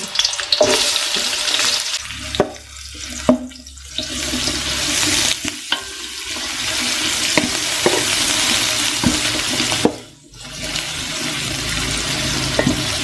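Long-sliced onions hit hot oil and fry loudly for Yemeni-style chicken mandi, a strong continuous sizzle with stirring scrapes and a brief dip near the end.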